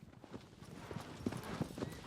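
Hooves clip-clop as a horse moves in the Shadow of the Colossus video game, a faint, steady run of soft hoof strikes over a hushed ambient background, with no speech.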